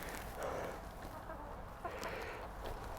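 Backyard chickens in a garden cluck softly close by while pecking, producing low, continuous murmuring and scratching with brief sharper clucks.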